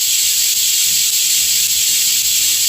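Steady, loud hissing of steam rushing out of a pressure cooker cooking mutton gravy, a continuous high whistle-like blast with no break, no voices.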